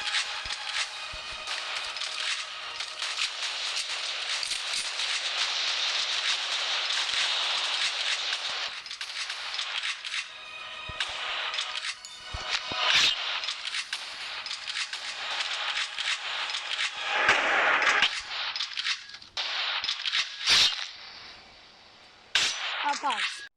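Gunfire in the War Simulator video game: a dense, loud, continuous crackle of rapid shots lasting throughout, with sharper cracks and bursts standing out near the end.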